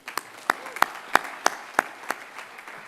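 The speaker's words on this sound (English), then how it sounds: "Give them a round of applause." Sparse, individual claps ring out at a college commencement, a handful of distinct sharp hand claps spaced roughly a third of a second apart over a light background hum, fairly close and not building into full applause.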